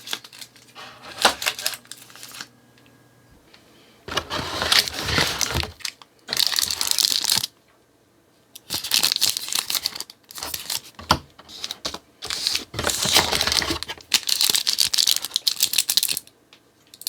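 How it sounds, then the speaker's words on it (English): KitKat Easter egg box packaging is opened with loud, close crinkling, crushing and tearing of cardboard and wrapper in repeated bursts of a second or two, separated by short quiet gaps. "when you open up the box at the top here"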